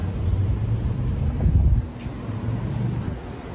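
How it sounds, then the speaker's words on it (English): Wind buffets the microphone with a steady low rumble, gusting stronger for a moment before easing back. "I hope it's not too windy."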